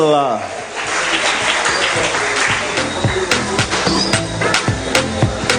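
Steady applause from a crowd at a Guadeloupe sports awards ceremony fills the scene, with a voice speaking over it and occasional sharper claps and knocks.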